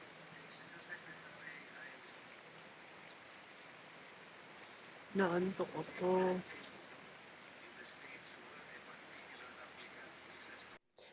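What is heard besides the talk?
heavy rain falling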